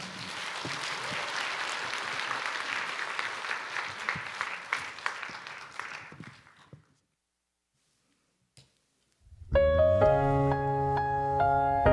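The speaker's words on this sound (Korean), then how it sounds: "우리 박수를 한번 맞이해 보도록 하겠습니다" A church congregation claps loudly for several seconds, the applause fading out into silence before a piano and music begin.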